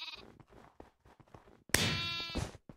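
A sheep around lambing time gives one loud, close bleat near the end, after a stretch of faint clicks, rustles and low murmuring.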